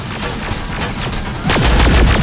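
Sustained automatic gunfire in the video game Terminator Resistance, dense rapid shots that grow louder and heavier midway through a chaotic firefight.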